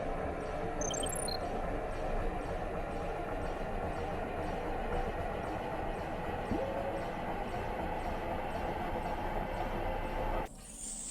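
A train in the video game ExoTrain moves along with a steady, even rolling rumble and hiss, constant and moderately loud, cutting off abruptly near the end.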